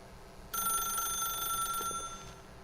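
In The Stanley Parable video game, a telephone rings with a steady electronic tone that starts abruptly, holds for nearly two seconds, then fades out over a quiet background.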